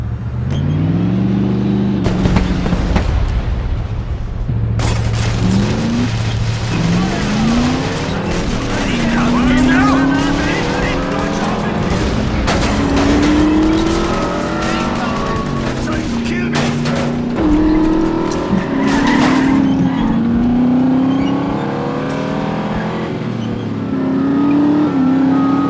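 Car speeding in The Saboteur, engine rising and falling in repeated revving sweeps as it shifts gears, loud and close, with bursts of gunfire and shouted voices over the top.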